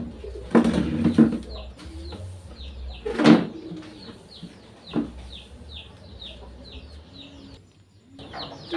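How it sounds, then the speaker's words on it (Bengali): Two hens, one a mother hen with chicks, kept under a tub on a home veranda, cluck in short bursts near the microphone, with thin chirps and rustling over a low background hum. "আমি বারান্দায় আর কি দুটা মুরগি আর কি টাবার নিচে বন্দি করে রাখি প্রতিদিন"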